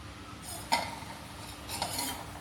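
A metal lid clinks down onto a pot of cooking lentils and vegetables for Tamil paruppu kulambu, with a second lighter clink shortly after, over a soft sizzle.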